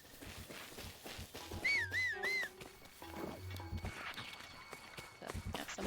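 Link whistling as he sprints in the video game Breath of the Wild: a short, clear wavering whistle tune rising and falling, heard over rhythmic running footsteps and game ambience.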